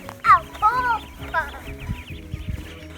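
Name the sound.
ducklings peeping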